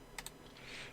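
A few computer keyboard keys tapped for a Ctrl shortcut during illustration work, heard as two quick close clicks followed by a later third click, faint against a quiet room.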